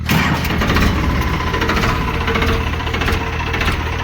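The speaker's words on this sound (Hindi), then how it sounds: "अब मैं आपको ट्रैक्टर को स्टार्ट करके दिखाता हूँ और आवाज़ देखना कितना अंतर है।" A loud diesel tractor engine fitted with a modified silencer starts and rumbles steadily up close, chugging continuously without pause.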